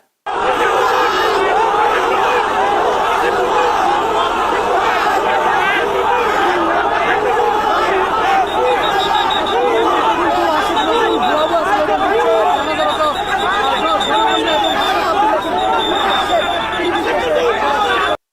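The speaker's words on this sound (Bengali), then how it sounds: "কোথাও গেলে পাবলিক আটকায় ফেলে ভুয়া ভুয়া স্লোগান দেয়" A large crowd chanting "bhuya bhuya" slogans, dense roaring voices and shouting that fill the whole stretch continuously and loudly.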